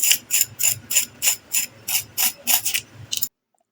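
Crisp, rhythmic crunching of a fried egg and potato kebab, about ten sharp bites or breaks in steady succession, close and loud, with no talking.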